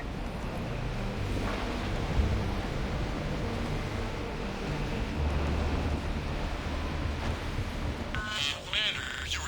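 Stormy wind and rain from a Mass Effect 3 game scene, a steady loud roar filling the whole clip with low rumbling underneath, a couple of heavier swells partway through, and a brief burst of radio-like static near the end.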